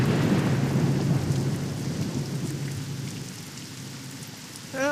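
Steady rain with a low rolling rumble of thunder in the Wallace and Gromit game The Last Resort, loud at first and easing slightly, with a brief new sound cutting in at the very end.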